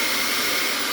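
A vacuum pump runs steadily to hold work on the vacuum clamp table of a Vevor 3018 Pro mini CNC, giving a loud, continuous broadband whoosh with no pauses and no talking.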